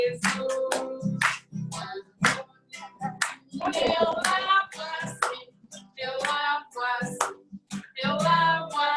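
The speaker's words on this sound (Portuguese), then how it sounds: "Bate palmas, então." Hands clap in a steady rhythm to a cheerful children's Sabbath song at a church gathering, sharp close claps mixed in with the singing voices.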